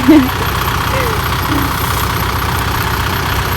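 Small tractor engine running steadily while towing a larger tractor in a rice field, a continuous low rumble close by, with a brief voice-like sound at the start.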